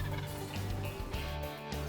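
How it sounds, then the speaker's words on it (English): Wild turkey gobbling in response to calls in a hunting setting, a faint, distant rattling gobble heard against steady background noise, with no talking. "He'd gobble at every call I made"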